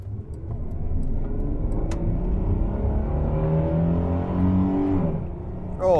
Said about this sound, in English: I'll try and do a demonstration of engine roughness.